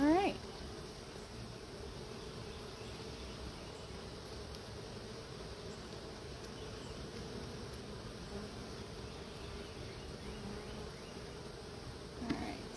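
Honey bees hum around an open hive in a steady, faint drone that persists throughout, with brief louder bursts at the start and end as bees fly close.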